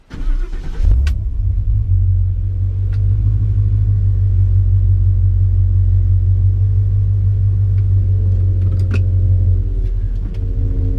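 A Ford Ranger with a swapped Coyote V8 starts up and pulls away, its deep engine rumble holding steady and loud for several seconds before easing off, with nobody talking.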